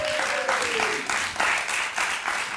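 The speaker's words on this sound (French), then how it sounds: "je vous demande d'applaudir le prochain" Audience applause greeting a comedian on a comedy stage, a short burst of clapping rising and falling in waves, with a brief tonal voice or sound at the start.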